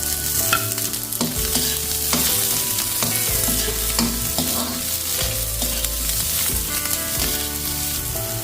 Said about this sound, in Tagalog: Gisa na po natin yung ating bawang sibuyas.